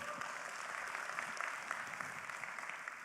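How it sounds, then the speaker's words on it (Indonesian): An audience at a leadership training session applauds, a steady, even wash of many hands clapping, fairly distant and continuous for a few seconds with no voices over it. "Tepuk tangan buat kita semua dulu."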